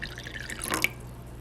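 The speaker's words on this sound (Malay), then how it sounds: "Tuangkan sedikit air panas." Hot water is poured into a cup to make coffee, heard as a short trickle and splash with a small drip at the end. The sound is close and quiet over a faint steady hum.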